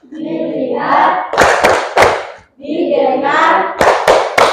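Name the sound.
class doing a rhythmic focus clap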